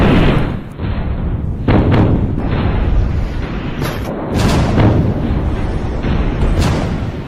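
A huge ammonium nitrate explosion at a port, with 2,750 tonnes stored there, produces a loud, sustained roaring rumble with repeated heavy bursts and booms across the whole span.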